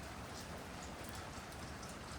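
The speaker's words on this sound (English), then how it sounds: "rain-snow mix going on right now" Steady rain-snow mix falling in a backyard in Lindenhurst, Long Island, New York, a continuous dense patter of wet drops close by with no voices.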